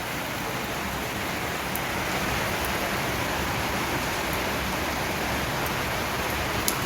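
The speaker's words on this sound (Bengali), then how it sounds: "বৃষ্টি এসছে আওয়াজ শুনতে পাচ্ছ" Heavy rain falls in a constant, dense hiss, steady and unbroken from start to finish, with no voices.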